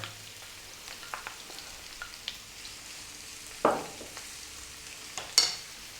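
Grated carrot and onion stirred and frying in a pan, a soft continuous sizzle broken by scattered scrapes and clinks of the utensil, two louder knocks standing out.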